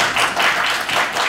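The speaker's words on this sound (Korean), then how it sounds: "마지막 박수 한번 쳐주십시오" A short burst of audience clapping at a Korean National Assembly forum on culture and tourism, steady and dense for just over a second.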